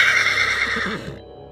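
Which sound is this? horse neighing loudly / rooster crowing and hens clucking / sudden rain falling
horse neighing loudly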